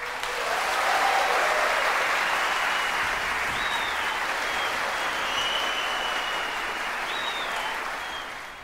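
An audience in a concert hall applauds a euphonium player before a competition performance, a dense, even wash of clapping that swells quickly, holds steady for several seconds, then fades at the end.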